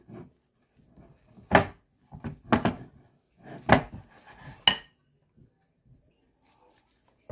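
A utensil knocks and scrapes against a bowl in a handful of separate bursts while oatmeal bread batter is mixed, with quiet gaps between the strokes.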